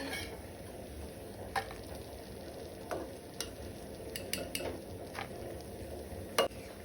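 Sprouted moong beans boil in a pot on the stove for a Goan curry, a soft, steady bubbling with occasional light clicks and taps, moderately close.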